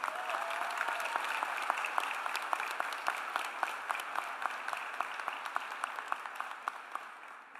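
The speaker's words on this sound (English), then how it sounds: "A round of applause for Dr. Molina." Audience applause at a BSN class of 2022 nursing pinning ceremony: a steady, dense wash of many hands clapping with sharp individual claps standing out, holding level and then slowly tapering off, with no talking.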